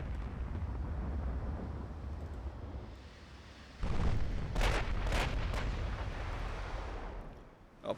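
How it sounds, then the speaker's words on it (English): Secondary guns on a battlecruiser firing in the naval warfare game Ultimate Admiral Dreadnoughts: a run of loud, booming gun reports stacked one after another in the middle of the clip, layered over a steady low rumble of battle ambience. "apparently we got close enough that the secondaries on the Battlecruiser are engaging"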